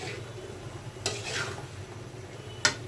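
Taro stolons tossed into a hot pan sizzle quietly under steady stirring, with a couple of sharp utensil clinks against the pan.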